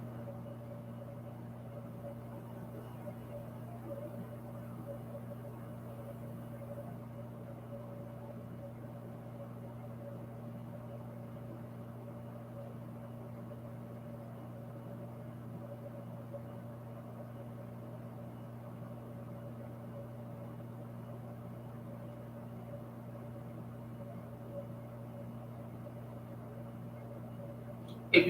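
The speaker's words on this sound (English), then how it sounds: "If you hear that noise in the background, that is my AC on energy save mode" An air conditioner set to energy save mode drones steadily indoors with a low, even hum and faint mechanical whir throughout, quiet and unbroken, with no one talking.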